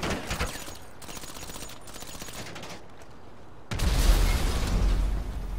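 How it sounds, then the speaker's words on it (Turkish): A loud burst of explosive booms and crackling gunfire erupts partway through as a car explodes in GTA Online, following a stretch of quieter rapid popping and background noise. "Araba patladı bak."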